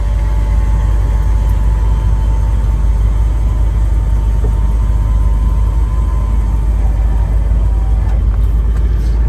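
Blower motor in a muscle car with a GM interior, running as a steady, even fan whir with a low rumble underneath, constant and unbroken from start to finish.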